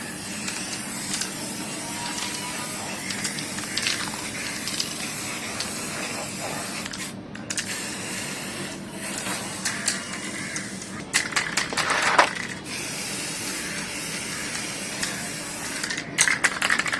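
A final coat of spray paint goes onto a Tata Altroz wheel cap in a steady, close hiss, with sharper, louder bursts of spray toward the end.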